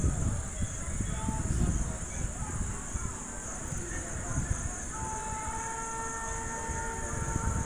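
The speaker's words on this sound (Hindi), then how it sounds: "ये ट्रेन जमानिया रेलवे स्टेशन से डिपार्चर करते हुए।" A Dildarnagar–Mughalsarai passenger train pulls away from Zamania railway station, giving a steady rolling rumble of wheels and carriages, with a continuous high whine of insects or crickets layered over it throughout.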